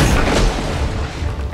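Grenade launcher firing in the video game Resident Evil 7, a loud, dense low boom that fills the whole moment and rumbles steadily without a break, heavy and close.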